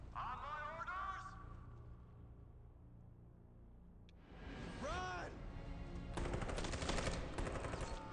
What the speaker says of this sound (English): Now they're shooting us in the back.